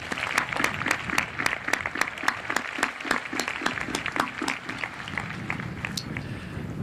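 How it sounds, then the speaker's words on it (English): A graduation audience at the Crown Point High School commencement applauds district leaders and board members with dense, steady clapping that holds at an even level for several seconds, crisp individual claps standing out near the front. "Please give our district leaders and board members a round of applause."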